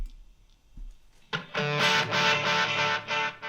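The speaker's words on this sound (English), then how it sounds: "I got tape echo on that one." An electric guitar played through a tc electronic Flashback X4 delay pedal set to tape echo comes in after a quiet second, loud sustained chords smeared by warm repeating echoes, close and alone.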